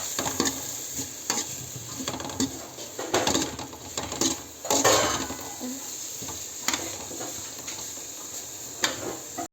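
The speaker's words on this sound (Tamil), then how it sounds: "கேரட் போட்டு கொஞ்சம் வறுத்துக்கலாம்." Carrots with onions stir-fried in a pan, a steady close sizzle broken by repeated scraping and stirring strokes of a utensil against the pan, with faint bird calls in the background.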